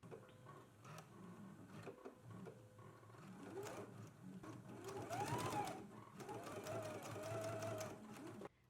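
A sewing machine runs steady bursts of stitching as it attaches black lace along a garment's bottom hem in red thread, a busy mechanical whir and rapid needle patter filling the room, louder in the second half.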